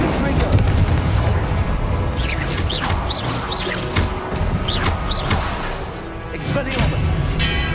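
Confringo blasting spell explosions in Hogwarts Legacy, a loud, continuous battle din of booms and crashing impacts mixed with clattering mechanical effects from start to finish.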